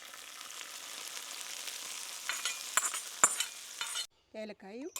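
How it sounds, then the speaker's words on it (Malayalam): Payasam stirred after ground cardamom, cumin and dry ginger are added, with a steady scraping stir and a soft sizzle close by. Chunky, louder strokes come near the end, and then a voice speaks briefly. "ഇത് മൂന്നും കൂടി പൊടിച്ച് ആ പായസത്തിലേക്ക് അങ്ങോട്ട് ഇട്ടിരിക്കുകയാണ് അത് വീണ്ടും ഇളക്കിക്കൊണ്ടിരിക്കുകയാണ്"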